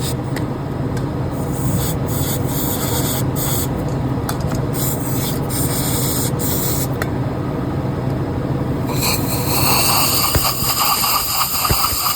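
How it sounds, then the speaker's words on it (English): A can of brake cleaner sprays a steady, loud hiss onto a car part during repair of a broken injector bolt hole, continuous for about twelve seconds with a brief change in tone near the end. "Brake clean."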